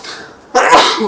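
A single loud, close sneeze bursts out abruptly after a brief stretch of quiet room tone during a casual gaming podcast chat.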